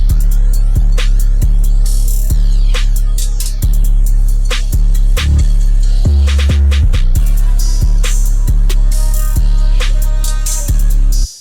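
A Southern Texas-style hip-hop beat loop made in FL Studio, run through the Fruity Love Filter's Stronger Phaser preset: loud, steady drums with a sweeping, fading phased texture over the lead melody, with no voices.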